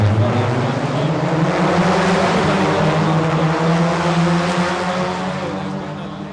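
Polo Cup race cars firing up and accelerating off the start, a loud close engine roar with rising and falling pitch bands from several cars, easing off slightly at the end.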